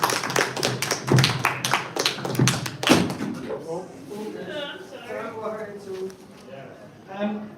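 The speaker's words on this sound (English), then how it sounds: "big round of applause for Deborah" An audience gives a speaker named Deborah a round of applause at a live-streamed tech event. The crisp claps mix with a speaking voice, then die away as talk carries on alone.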